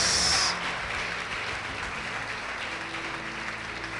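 A church congregation applauds during a sermon, a dense steady clapping that starts loud and settles into a softer, even wash of applause at moderate distance.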